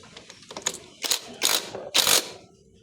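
Impact wrench tightening the clutch nut on a Rusi 125 motorcycle, three loud separate buzzing bursts in a row, each about half a second long, near and alone after some softer mechanical clicks.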